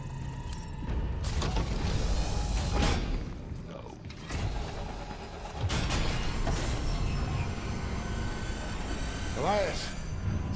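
A malfunctioning elevator in Callisto Protocol lurching downward: heavy grinding creaks, metallic groans and clanks over a low rumble, with a deep boom and a short shrill squeal, while someone talks over parts of it.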